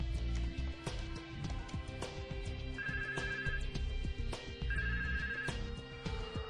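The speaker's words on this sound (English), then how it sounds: "The default ringtone rings." A Yeastar MyPBX IP phone plays its default ringtone, a faint repeating electronic ring pattern with short tonal bursts recurring across the stretch.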